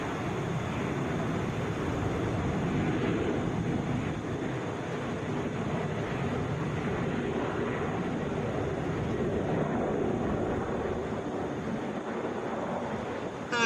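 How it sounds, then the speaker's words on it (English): A United Boeing 737 jet at Atlanta airport gives a steady broad roar that holds evenly for the whole stretch, loud and distant-sounding, with wind buffeting the microphone and no voices. "This is United flight 225 going to Denver,"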